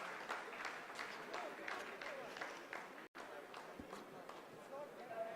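Scientists at mission control applaud after the lunar lander's descent phase is completed, a steady wash of clapping that runs throughout with a brief dropout midway, while a commentator talks over it.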